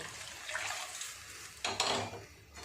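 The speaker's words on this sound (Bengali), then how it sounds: "প্রেসার কুকারটা ধুয়ে আর একটু জল দিয়ে দেব।" A pressure cooker, used to boil chana dal, is rinsed under running water with clanks of the metal pot. The splashing swells near the end as more water pours in. There is no talk.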